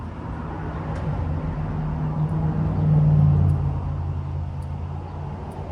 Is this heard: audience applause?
no